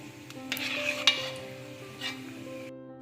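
Cashews and raisins lifted out of hot sunflower oil with a metal scoop, giving a soft ongoing sizzle, scraping clinks against the pan and a steady low hum from the stove, close and fairly quiet.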